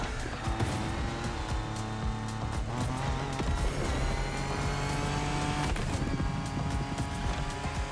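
A racing car engine in The Crew Motorfest holds a steady, loud drone with rising and falling pitch as it accelerates through gear changes, running continuously without talk.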